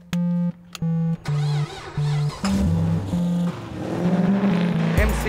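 A V8 race car revs and accelerates on a track, its engine note rising and shifting through gears in a steady, loud, close roar, starting with short choppy bursts that blend into continuous power.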